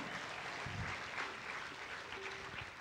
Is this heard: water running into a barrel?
no